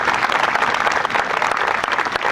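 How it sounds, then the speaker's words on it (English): A crowd at an outdoor park groundbreaking ceremony claps for a police chief, giving a short burst of dense, lively applause that stays at the same level throughout. "Let's give Chief Joe Fox a round of applause."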